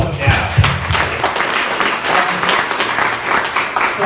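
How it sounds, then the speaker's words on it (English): An audience at a talk on exponential technologies claps together, a fairly loud, uneven patter of many hands that swells in bursts and carries on throughout. "Okay, round of applause now."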